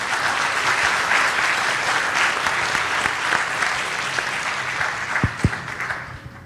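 An audience applauds a speaker being welcomed at a conference, with loud sustained clapping that thins out toward the end as a few final claps sound alone.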